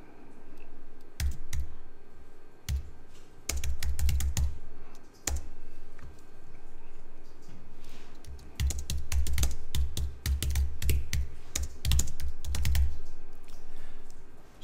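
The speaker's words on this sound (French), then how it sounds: "On va taper le titre." Computer keyboard typing comes in irregular bursts of crisp, close key clicks, with pauses between flurries and a denser run of strokes near the end, and no voices.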